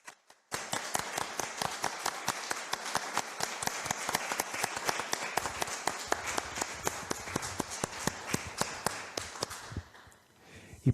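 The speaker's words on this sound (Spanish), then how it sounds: "es justo y necesario que a todos les demos un fuerte aplauso." An award ceremony audience gives strong applause, with sharp, distinct claps in a fast, steady stream that starts abruptly, keeps an even pace for about ten seconds and then thins out and fades.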